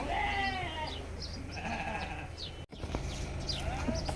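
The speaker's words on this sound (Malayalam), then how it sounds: "ചെമ്മരിയാട് ഫാമിംഗ് നൈസ് ക്യൂട്ട് ആടുകളും സുന്ദരമായ ആടുകളും ആട്ടുകുട്ടികളും" Sheep bleat repeatedly on a farm, wavering calls rising and falling over steady outdoor background noise, with a brief sharp knock partway through and more bleats following.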